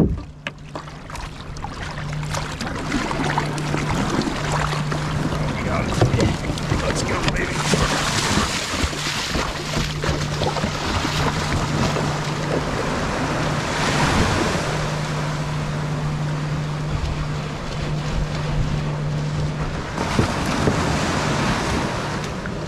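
Wind blowing across the ocean at a beach, a steady loud roar of gusts and surf with microphone buffeting throughout, and a faint voice underneath.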